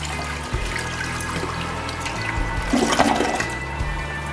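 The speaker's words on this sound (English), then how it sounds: "this one seems to have a pretty decent flush" A 1.6 gallon low-flow toilet flushes in a newly remodeled bathroom, a steady rushing swirl of water that swells near the middle and then trickles off as the bowl refills.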